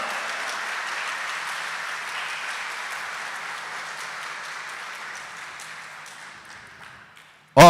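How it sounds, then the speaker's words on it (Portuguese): A church congregation applauds together during a Sunday Mass, dense sustained clapping that slowly thins and fades out, ending with a sudden loud bump. "Brada uma salva de palmas e um grito de amor a Ele."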